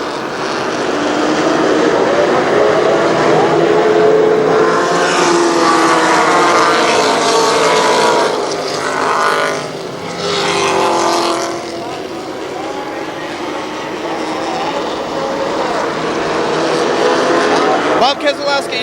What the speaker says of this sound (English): Green flag flies and we are racing.